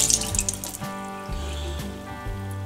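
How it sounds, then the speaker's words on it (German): Tap water running over a hand coated in homemade salve, a close splashing stream with small drips and trickles. "Ja, lass mal doch mal Wasser drüber laufen."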